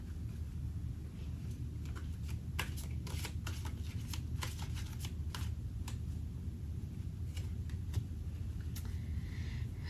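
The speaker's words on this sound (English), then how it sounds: "let's pull 1 fairy card" Fairy oracle cards are shuffled and drawn at close range, making quick papery riffles and flicks in a cluster, over a low steady room rumble.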